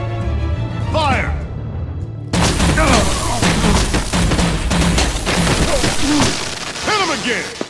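Heavy gunfire in Batman: The Enemy Within: loud booming shots and rapid bursts in a dense, chaotic volley, with voices shouting through the firefight.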